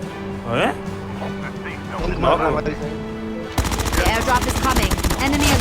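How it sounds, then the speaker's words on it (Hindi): Rapid bursts of automatic gunfire in a Call of Duty Mobile battle royale match, starting sparse and then turning into dense, loud sustained firing, with voices talking throughout. "अब इस बंदे को हमने इतनी गोलियां मार दी थी कि ये गिर के नॉक हो गया।"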